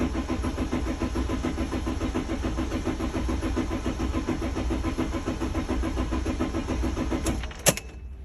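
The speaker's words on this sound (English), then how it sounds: "Now that's synchronizing and trying to fire, except it doesn't have enough fuel pressure." A Mercedes Sprinter T1N diesel engine cranking with its fuel pump relays removed and too little fuel pressure, a steady rhythmic starter churn that keeps turning without catching, loud and close, ending with a brief click.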